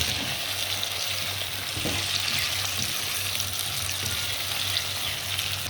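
Tomato fries in a hot pan with a steady, close, dense sizzle and soft stirring scrapes, joined by a low constant hum, with no talking.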